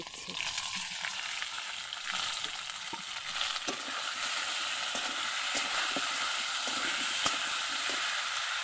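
Ground spice paste frying in hot oil with browned potatoes for a fish curry gives a loud, dense, continuous sizzle and hiss with faint scraping stirs throughout, no voices.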